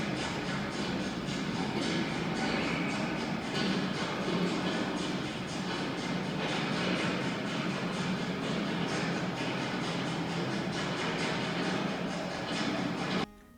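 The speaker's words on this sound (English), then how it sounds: "I think you're going to start to be able to hear the railroad." A steady, dense rumbling roar like a train passing close by, constant for many seconds before cutting off abruptly; a simulated train passing overhead at the Nebraska Archway Monument.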